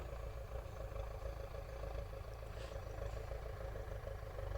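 Tractor engine running steadily in a field in rural Chełm county, a continuous low rumble that holds at an even level throughout, moderately distant with no talk over it.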